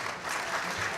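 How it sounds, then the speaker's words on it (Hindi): Steady audience applause at an Urdu mushaira poetry gathering, a dense continuous wash of clapping from a crowd filling the whole second, with no speech over it. "मैं चाहता हूं कि हारून शेख साहब के लिए और उनकी टीम के लिए एक बार आप ताली बजा दें"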